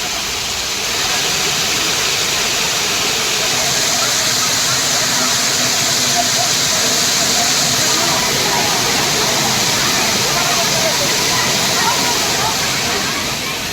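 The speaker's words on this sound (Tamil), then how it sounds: "வெயிலின் தாக்கத்திலிருந்து தப்பிக்க திருப்பரப்பு அருவியில் குவியும் சுற்றுலா பயணிகள்" Thirparappu waterfall in Tamil Nadu running with low water as tourists bathe beneath it, a steady broadband rush of falling water that stays loud and constant throughout without any clear break.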